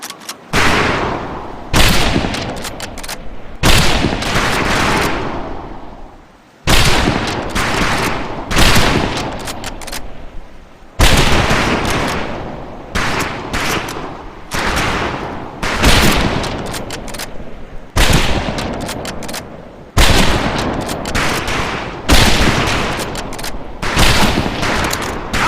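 Rifles fire at targets on a boot camp range in Medal of Honor Pacific Assault: about a dozen loud, sharp volleys at irregular intervals of one to three seconds, each cracking hard and then ringing out in a long echoing tail.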